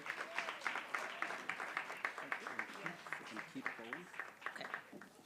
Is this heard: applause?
yes